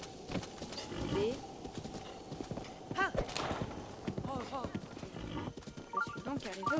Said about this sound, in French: mon cheval ne veut pas accélérer dans le village